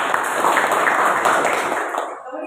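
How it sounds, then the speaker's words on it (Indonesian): A school audience at a vocational high school in Majene, West Sulawesi, gives a burst of dense, sustained hand-clapping. The clapping thins out and fades toward the end. "Tepuk tangan dulu."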